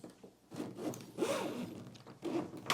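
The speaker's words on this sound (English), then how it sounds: "Smooth zipper." Zipper on a LEVEL8 Voyageur 26-inch suitcase being drawn open in several smooth, close pulls, each a raspy zipping stroke with brief pauses between.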